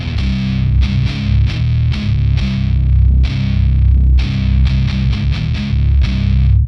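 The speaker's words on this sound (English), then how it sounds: "You can listen to the noise of the bass at the maximum." Bass guitar played through a Fender Hammertone pedal set to maximum, giving a thick, heavily distorted low tone in continuous loud riffing with rhythmic note changes and no talking.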